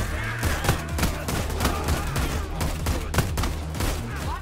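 Rapid repeated shotgun blasts in the heist shooter PAYDAY 3, dense and punchy with overlapping shots and impacts at a fast, irregular rhythm, loud and close with no talk.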